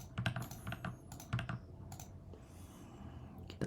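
Steady typing on a computer keyboard while dummy patient data is entered into a hospital application, a run of close, quick key clicks with uneven rhythm and a few louder strokes.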